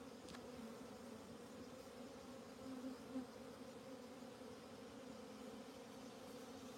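Honey bees hum around a hive in a low, steady, continuous drone that stays even and moderately faint throughout.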